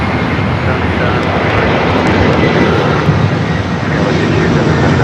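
A United airliner taking off from runway 24 left at Los Angeles International Airport, its engine roar loud, steady and broadband throughout, heard from a fixed spot with no break in the noise.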